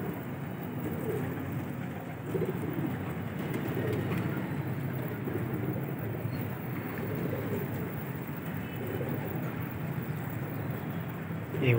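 Low, soft cooing and flapping of Gola pigeons over a steady background rumble, with murmured voices faintly underneath.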